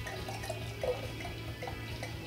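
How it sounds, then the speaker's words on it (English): Bent Paddle Double Shot Double Black, a very black beer, is poured from a bottle in a short, gentle trickle with soft splashes under a steady low hum. "Let me get a little pour here."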